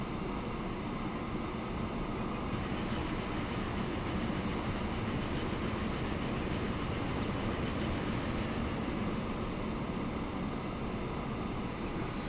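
Freight trains in the rail simulation game Transport Fever roll along steadily with a constant rumble, rattling wagons and faint wheel squeal that continue unbroken throughout.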